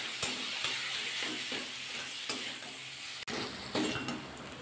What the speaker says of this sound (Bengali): আবার ভালো করে মিশিয়ে নিতে হবে।